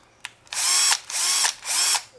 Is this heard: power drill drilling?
yes